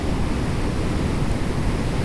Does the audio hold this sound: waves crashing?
yes